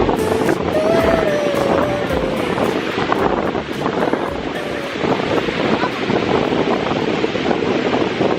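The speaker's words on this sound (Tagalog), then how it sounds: "Ang lakas ng alon." Strong ocean waves wash onto the beach at Baler, Aurora in a constant roaring surf, mixed with gusting wind on the microphone and voices talking nearby.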